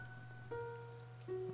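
Rain falling outside in the video game To the Moon, a steady soft patter under sustained game music tones, with no voices.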